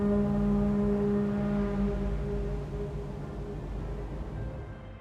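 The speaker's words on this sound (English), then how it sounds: "we hear a foghorn signaling that the next ship is about to arrive" A ship's foghorn in the Little Nightmares video game, signaling an arriving ship: one long, deep, steady blast with a low rumble beneath, loud and sustained before slowly fading.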